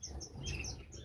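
Canaries chirp and tweet inside a messy bird shed, a steady chorus of soft, high calls and twitters close by, with no talking.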